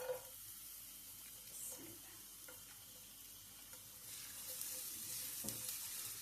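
Garlic fries in oil for a stir-fry of cauliflower leaves with dry shrimp, giving a faint, steady sizzle with light stirring clinks and brief watery splashes throughout.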